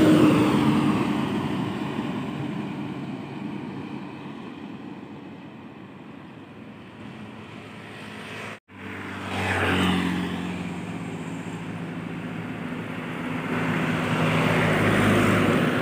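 A Safari Dharma Raya bus passes along the Ngawi ring road, a broad rushing roar that swells and fades. A brief dropout near the middle is followed by the rumble of another vehicle building again.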